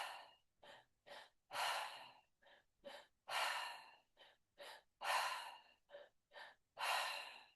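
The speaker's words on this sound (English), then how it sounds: "maybe I want to do faster breath" Fast breathwork: quick, shallow in-and-out breaths through the nose and mouth, close to the microphone, in a steady rhythm of short sniffs broken by longer airy exhales, with no talking.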